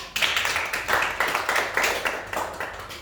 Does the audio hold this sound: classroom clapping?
yes